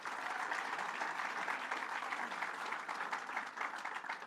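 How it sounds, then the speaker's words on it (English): Sustained applause from a rally audience for a paid family leave event on Long Island, dense and steady clapping throughout with no voices standing out. "Give him another round of applause."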